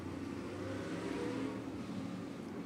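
An old Formula One car engine revs steadily and loudly, a dense, continuous mechanical drone with no speech over it.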